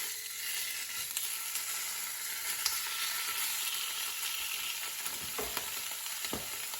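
Filet mignon sears in a hot frying pan, browning on all sides, with a steady, close, crackling sizzle that holds an even loudness throughout and a few sharper pops near the end.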